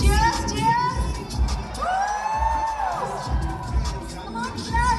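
A large crowd at IIT Bombay Techfest cheers and shouts continuously, with excited whoops and children's voices blending into a loud, dense roar that holds steady throughout.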